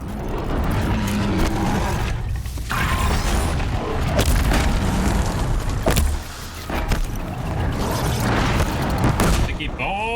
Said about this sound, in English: Sticky bombs!